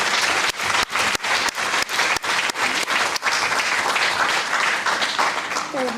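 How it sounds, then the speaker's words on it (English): A conference audience applauds a group of community workers who stand to be recognized. Loud, sustained clapping from a large crowd carries on for several seconds, with some murmuring underneath. "let's give them a round of applause"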